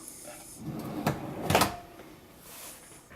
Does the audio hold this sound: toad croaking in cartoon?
no